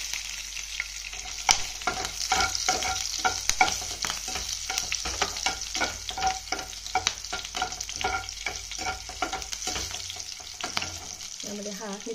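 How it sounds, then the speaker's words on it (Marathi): Cumin seeds and green chillies frying in hot ghee for a Maharashtrian fasting thali: a steady, close crackling sizzle broken by repeated scraping stirs, carrying on throughout with no voices. "तूप गरम झालेलं आहे. यामध्ये जिरे घालायचे."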